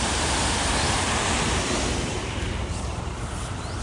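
A steady, loud roar of a waterfall fills the whole clip without a break, close by, with no voices over it.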